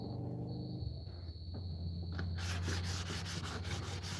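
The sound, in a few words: sanding wood with 80-grit sandpaper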